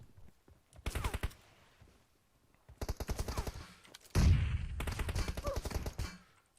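Automatic gunfire in PUBG Mobile, three sharp bursts of rapid close shots separated by short pauses, the last burst louder and joined by a heavy thump, with no talking.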